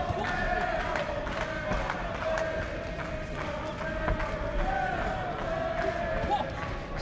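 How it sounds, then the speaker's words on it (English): A boxing crowd in an arena roars and cheers steadily for Paul Appleby in his bout against Yousef Al Hamidi, a dense, continuous wall of noise with scattered shouts and a few claps. "The crowd tried to get behind Appleby."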